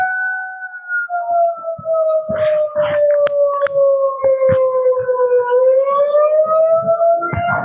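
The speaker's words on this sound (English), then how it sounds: "It's a loud siren." A Federal Signal 2001-130 tornado siren in Dallas sounds a loud, steady wail that slowly falls and then rises again over several seconds, with faint clicks and thumps around it and no talk.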